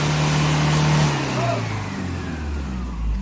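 The engine of a Toyota Hiace Commuter van that has sat in a garage for a year runs at high revs in a loud, steady drone, then its pitch slowly falls as it eases off.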